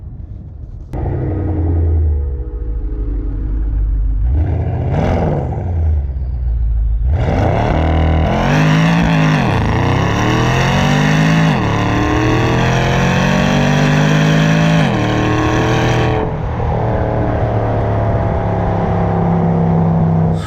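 Porsche Panamera Turbo with catless downpipes launching hard with wheels spinning, its loud exhaust rising through gear changes into a sustained roar before easing off.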